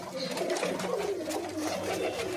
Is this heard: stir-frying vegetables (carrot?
no